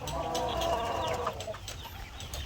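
Young chicks cheep in a roomy homemade brooder lit by a single lamp, with a bright cluster of peeps at first that thins to fainter calls over a low background.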